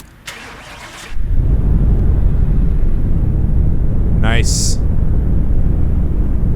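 Dodge RAM 3500 truck engine in Car Mechanic Simulator 2018 cranks briefly, then catches into a loud, steady low rumble that idles on, close and continuous, with a short spoken word over it.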